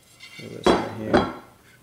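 A metal pan handled on a home kitchen counter while cooking indoors, giving two sharp clanks about half a second apart over a low scrape and rattle, close and fairly loud with no talking.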